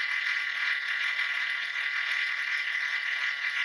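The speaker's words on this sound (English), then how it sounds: "That is the passenger side idler pulley." A harsh, continuous metallic rattling whir, steady and loud, from a car engine's passenger-side idler pulley with a squealing bearing, heard up close through a mechanic's stethoscope.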